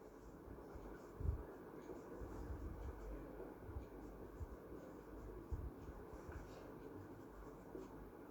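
Pen or pencil scratching on paper while an outline diagram is written by hand, with faint continuous strokes and a few soft taps, quiet and close.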